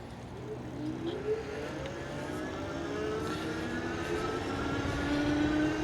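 An Eskute C200 SO electric bike accelerates on twist throttle alone, its quiet motor whine rising steadily in pitch over a constant rush of wind and road noise.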